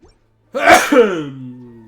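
A single close, loud sneeze with a sharp burst and trailing voiced tail, alone after a brief silence.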